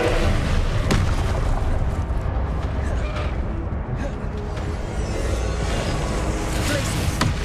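Confringo blasting-spell explosions in the Hogwarts Legacy game boom loudly and continuously, layered with whooshes and bursts, and a voice is briefly heard.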